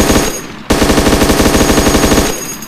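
Rapid automatic gunfire crackles loudly in a video game match, a tight burst of evenly spaced shots that runs for well over a second before stopping abruptly. No voices are heard.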